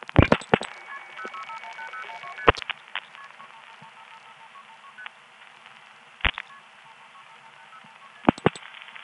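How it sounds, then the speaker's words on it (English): Touch-tone dialing on a long-distance call through a step-by-step telephone exchange: a few sharp dialed tones over a steady hum on the line, with long pauses between them. "Here are those two other times, starting with the last digit that we dialed."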